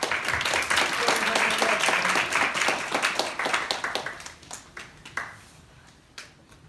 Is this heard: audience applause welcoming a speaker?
yes